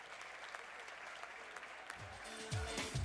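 Audience applause for award winners at a swing dance camp awards event, a steady wash of faint, distant clapping that fills the room, with a louder burst of noise and low music rising near the end.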